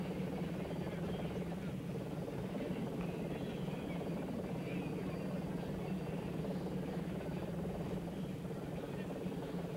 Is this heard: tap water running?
no